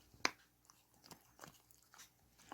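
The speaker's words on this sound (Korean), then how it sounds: "꼭꼭 씹어 먹어." A dog chews and bites on salmon, giving faint, close crunching and biting clicks spread irregularly across the moment, with one sharper bite near the start and no talk over it.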